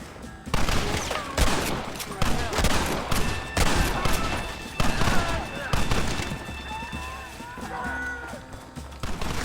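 Heavy gunfire from the video game Red Dead Redemption fills a gate assault, with dense, repeated loud shots and bursts that crackle almost continuously amid battle noise.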